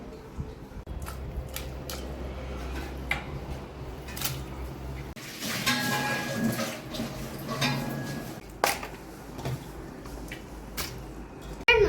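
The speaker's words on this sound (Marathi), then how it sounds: "तर आता आपण मटण आणलेलं आहे, तर आता आपण याला धुवून घेऊया" Raw mutton being washed by hand in water for a home-style meal: irregular splashing, squelching and dripping with small clicks, up close and fairly steady throughout, with a louder wet burst partway through.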